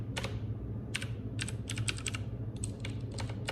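Rapid keystrokes on a computer keyboard come in uneven bursts and short pauses, fairly close, over a steady low background hum, with no voices.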